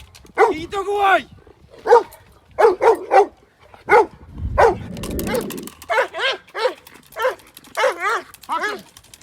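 Dog barking in a sharp, repeated series of loud, close barks during bite-suit training, with someone shouting over and between the barks.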